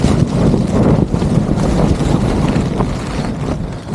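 Storm winds batter a tent pitched high on a mountain pass at a wild camp, producing a loud, continuous roaring rush with heavy buffeting that never lets up.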